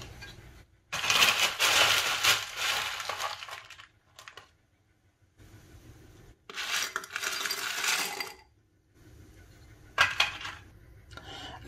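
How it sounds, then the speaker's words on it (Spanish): Crushed ice tumbling into a blue mojito glass in three separate bursts of crunchy, rattling clatter, close and fairly loud, with quiet pauses between pours. "Le agregamos un poco de hielo picado"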